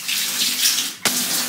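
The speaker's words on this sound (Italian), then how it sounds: "l'acqua come la preferisce? Tiepida, un po' più calda?" Water runs from a shower onto hair during washing, a steady hiss that briefly cuts out and then resumes, close and fairly loud with no talk.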